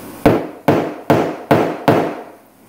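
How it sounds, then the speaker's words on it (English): A hammer strikes a carriage bolt held backwards over a hole in metal arcade cabinet bodywork to dimple it: five sharp, evenly spaced, close hits, each ringing briefly and fading. "put it over the hole backwards, the shape of the carriage bolt, and then give it a couple of hits"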